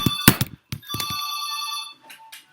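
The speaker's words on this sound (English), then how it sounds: "my intercom is ringing" An intercom rings with electronic tones in short repeated bursts after a few knocks, sustained briefly then fading, close and clear.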